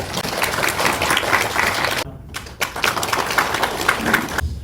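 An audience at a regional depopulation panel discussion applauds with dense, sustained clapping that breaks briefly, then resumes strongly.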